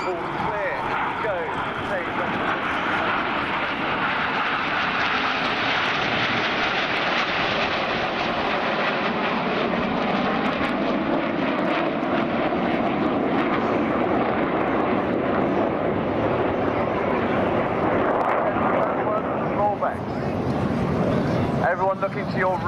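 RAF Red Arrows jet aircraft performing a rollback manoeuvre at a coastal air show: a loud, continuous roaring jet engine wash that swells and shifts steadily throughout, with a faint voice running beneath.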